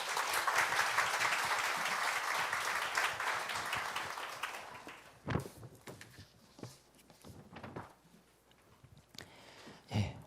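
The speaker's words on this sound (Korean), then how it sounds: "우리 나오실 때 우리 박수로 환영하겠습니다" A church congregation claps to welcome a guest pastor, with dense, loud applause that thins out and fades after about five seconds, leaving scattered claps and faint room noise.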